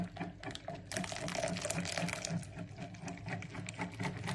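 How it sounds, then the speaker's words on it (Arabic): Hot milk is poured slowly into a pot lined with caramel for a homemade crème caramel, a steady close liquid pour with a continuous wet trickle, and no talking. "الآن نجيبو هذاك الحليب اللي كنا حطيناه في الجرة تاع الكراميل ونصبوه وهو سخون"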